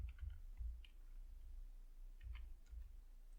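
Fingers type on a computer keyboard in short, quiet bursts of clicking keystrokes, with a pause in the middle, over a low background hum.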